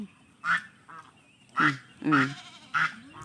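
Several loud honking, gobbling turkey calls in short bursts with pauses between, close by, in an otherwise quiet outdoor setting.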